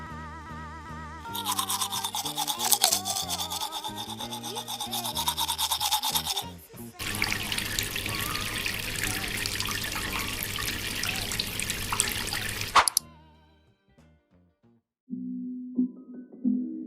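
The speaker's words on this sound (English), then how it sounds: "Gonna brush my teeth" Someone brushes their teeth and washes their face at a bathroom sink, with steady scrubbing and running water close by for several seconds. It stops, and then a short, quieter tone follows with no voices.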